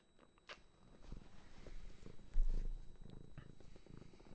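A cat purrs close by in a soft, steady rumble, with faint rustling and small handling noises around it and no talk.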